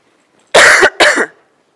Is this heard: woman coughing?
yes